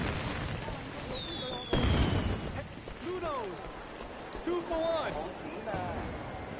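Fireworks bursting during a Chinese New Year celebration in the video game Sleeping Dogs, a few booming explosions with crackling and whistling rockets, fairly loud and continuing across the clip.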